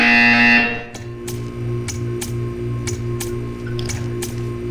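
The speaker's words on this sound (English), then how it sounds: "You will hear a buzzer." A buzzer in the Portal 2 video game gives a steady, droning electronic buzz with layered harmonic tones, punctuated by a series of sharp, evenly spaced clicks.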